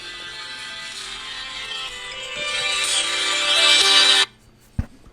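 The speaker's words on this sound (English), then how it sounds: "That's my phone ringing" A mobile phone ringtone plays for about four seconds, a bright electronic tune that grows steadily louder, then cuts off abruptly, followed by a single soft thump.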